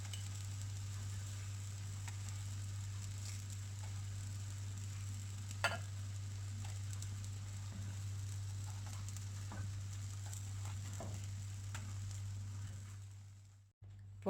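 A flipped egg omelette fries in a pan with a continuous, even sizzle and a steady low hum underneath. Occasional small pops break the sizzle before it cuts out near the end.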